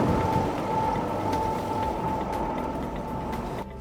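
Varimount 350 PTO-driven air compressor running steadily on a tractor, a constant loud mechanical roar with a high whining tone as air is pushed through a slurry pipe, dropping off at the very end.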